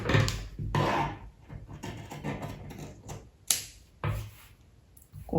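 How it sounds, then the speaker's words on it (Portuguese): Scissors cut through skirt fabric at close range, with crisp snipping and dragging strokes and a few sharp clacks of the blades, coming in irregular bursts with brief pauses. "E agora é só cortar."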